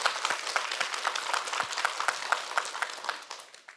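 Applause from a church audience, a thinner spread of clapping with individual claps standing out, moderately loud and gradually tapering off toward the end.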